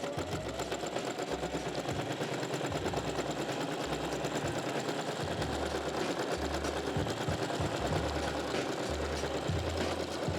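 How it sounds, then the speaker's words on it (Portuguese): A sewing machine stitches a fabric ruffle, a close, steady mechanical whir with a fast rhythmic stitching pulse that runs in bursts with short pauses, and no one talks over it. "E venho e vou costurar aqui."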